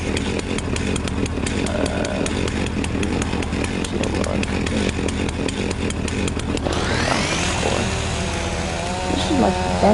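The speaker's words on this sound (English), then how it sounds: "This is like the best steel chainsaw in the market" Steel chainsaw cutting a huge tree in Farming Simulator, a loud buzzing engine that revs steadily, then drops in pitch and changes tone as the cut progresses. A voice briefly talks over it.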